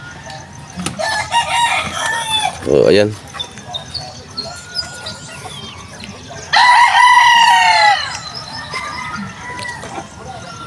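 Chickens cluck and a rooster crows loudly nearby, with a second long crow midway, while a person speaks intermittently between the calls.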